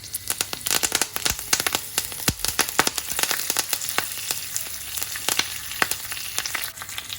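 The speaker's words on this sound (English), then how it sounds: "So just some ghee and a teaspoon of cumin seeds, and I'll let them sizzle first." Cumin seeds sizzling in hot ghee, a close, steady crackle of dense popping and spitting that runs throughout without any voices.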